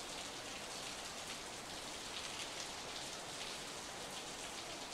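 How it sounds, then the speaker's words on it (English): Heavy rain pours steadily in the visual novel Steins;Gate 0, a dense, even downpour with no break and no talking. "It's really pouring!"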